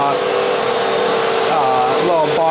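A Fantom Fury upright vacuum cleaner runs continuously with a loud, steady motor whine and airy hiss, close to the listener, with slight pitch shifts as it moves near the end.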